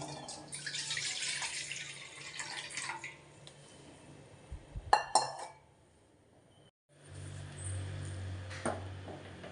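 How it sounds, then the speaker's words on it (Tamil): Two cups of water go into a pot on the stove with splashing and pouring, then metal clinks and a bump against the pot. A quiet pause follows before more faint water sounds. "அதுக்கு ஒரு பாத்திரத்தை அடுப்பில் வச்சு 2 டம்ளர் தண்ணி ஊற்றிக்கலாம்."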